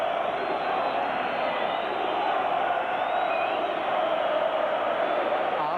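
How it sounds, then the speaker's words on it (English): A large stadium crowd at an Arsenal v Liverpool FA Cup fourth-round football match applauds a player, producing a continuous loud roar of clapping and cheering that holds steady throughout. "He's applauded by many"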